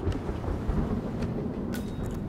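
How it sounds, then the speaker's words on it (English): A thunderstorm rumbles outside in the Hitman 2 video game, with a steady low roar of rain and thunder and a few faint higher crackles, heard alone without speech. "All I can hear is a storm outside"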